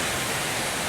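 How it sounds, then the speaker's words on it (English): Water pours steadily over rocks in a resort's outdoor water feature, a dense, even rushing wash that fills the whole moment without any voices. "Some of the kind of water flowing noise there."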